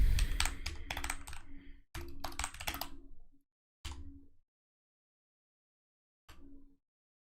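A computer keyboard clatters in quick bursts of close key presses, with pauses between groups and a last short tap after a longer gap.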